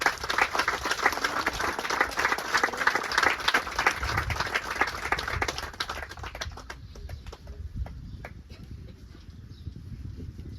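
A church congregation applauds together, dense steady clapping filling the room for about six seconds before thinning out into scattered claps and quiet room noise.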